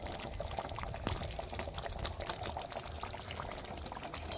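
Doi katla, a Bengali yogurt-based katla fish curry, being poured out, giving a soft continuous liquid pouring and bubbling sound, faint and close, with no talk.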